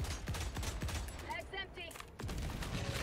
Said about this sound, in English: Was it the shotgun blast?